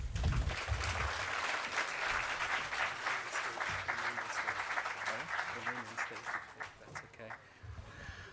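Sustained applause for the Minister at a World Rangers Day ceremony, dense clapping from a sizable audience that fills the whole stretch, with some voices and crowd murmur mixed underneath.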